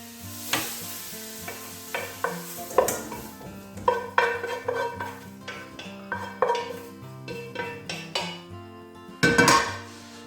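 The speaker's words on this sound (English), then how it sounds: "So I'm going to take that out now and put it in a bowl." Softened vegetables for a lamb stew with Italian sausage and white beans being scraped from a pan into a bowl, with repeated metal-on-pan clinks, stirring scrapes and a faint sizzle, ending in a louder clatter, no talking.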